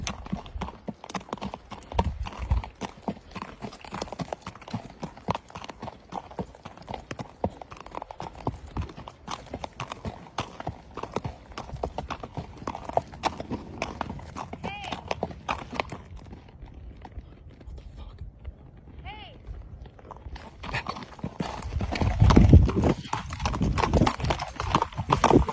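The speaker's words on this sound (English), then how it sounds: "the horse is definitely startled by something" A startled horse's hooves clip-clopping in a rapid, uneven stream of close knocks, briefly easing off before getting louder and heavier near the end.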